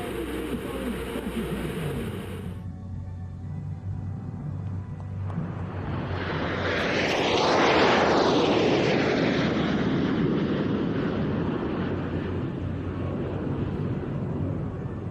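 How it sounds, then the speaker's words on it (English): Turkish Stars supersonic NF-5 jets at an air display, a broad jet roar that swells into a loud passing flyby and then lingers as a fading rumble. "Flying 8 supersonic NF-5 aircraft, the Turkish Stars is one of the youngest national display teams"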